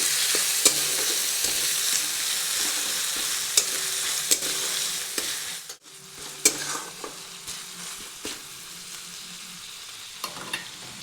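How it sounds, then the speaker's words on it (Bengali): Chopped onions frying and sizzling in a pan as they are stirred for a garlic Maggi noodle dish, a steady close hiss with repeated sharp scrapes and taps of the spoon against the pan, with a brief lull midway. "দিয়ে পেঁয়াজটিকেও কিছুক্ষণ ভেজে নিচ্ছি"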